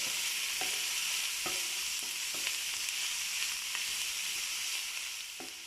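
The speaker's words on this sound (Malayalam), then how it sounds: "നന്നായിട്ട് ഇളക്കി വഴറ്റാം." Onions sautéing in a pan for a soya chunk roast, a steady sizzle with repeated scrapes and knocks of a stirring spoon every second or so, close and continuous.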